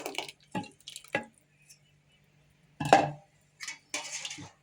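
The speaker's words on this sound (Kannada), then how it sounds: "ಈಗ ನೋಡ್ರಿ ಸಾರು ಕುದಿಯಾಗತ್ತೈತಿ" Tamarind rasam (saaru) boiling in a pot, giving off a few sparse, quiet bubbling plops and pops with silent gaps between them.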